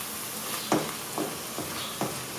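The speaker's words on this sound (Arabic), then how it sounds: "كنمزجوا هاد المكونات وكنطرقوا الكل حتى يتقلى لينا" Onion with cumin and spices frying in a pan for onion-filled msemen, a continuous soft sizzle broken by a few sharp knocks of stirring against the pan, no voices.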